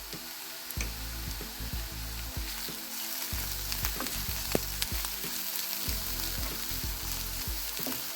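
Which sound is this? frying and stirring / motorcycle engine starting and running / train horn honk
frying and stirring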